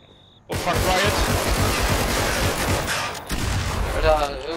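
Rapid bursts of gunfire in the video game Contagion crackle loudly and continuously for several seconds after a brief quiet start, with a short gap before the shooting resumes.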